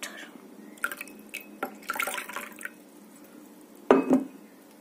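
Cool tap water runs over a leaf just taken out of alcohol in a simple plant-science activity, with faint trickles and drips building to a louder splashing burst near the end.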